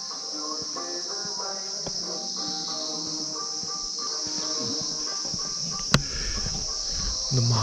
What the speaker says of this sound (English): the chirping of birds, insects.